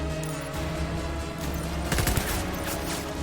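Rapid gunfire in the video game Death Stranding, a steady crackling fusillade with a heavier burst of shots near the middle, loud and continuous against game ambience.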